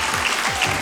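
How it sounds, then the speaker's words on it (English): Steady applause from a speedrun marathon audience at Summer Games Done Quick 2024, a dense wash of clapping filling the whole short moment without a break. "Give them a round of applause."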